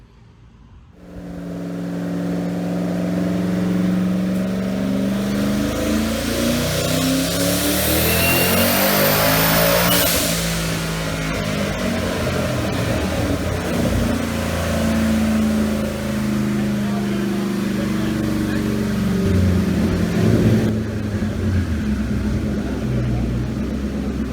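A turbocharged 2013 Mustang GT race car running on race gas roars on a dyno, its engine revving hard and climbing in a loud, sustained pull that peaks around the middle and holds at high revs to the end.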